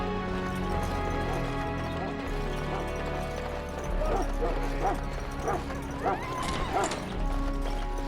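A dog barks in a castle larder scene in the Dragon Age: Origins video game. Several yips and barks come in a quick cluster partway through, over steady game music and ambience.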